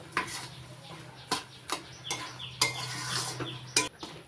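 Sugar being stirred in a pan to melt it, with a utensil knocking and scraping against the metal in irregular clinks over a faint low bubbling.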